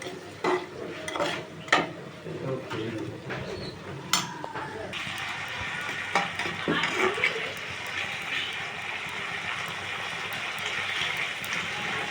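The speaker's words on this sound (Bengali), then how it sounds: "কাটা পেঁয়াজগুলোকে দিয়ে দেওয়া হলো লঙ্কাটাও দিয়ে দেওয়া হলো" Chopped onions and chili hit a pan for an eggplant dish, with a few utensil clinks and knocks before a broad, steady sizzle takes over, while a voice talks early on.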